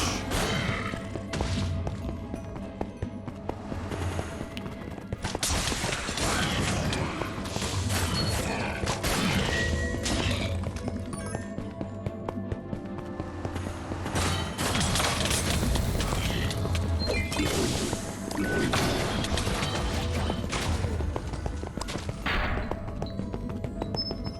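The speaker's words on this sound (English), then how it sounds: "The explosion is not the most consistent, but it's bloody good." Explosions in the video game Minecraft Dungeons during a high-difficulty Apocalypse +25 Ancient Hunt run, a dense loud barrage of blasts, crashes and thuds layered over continuous game effects and music.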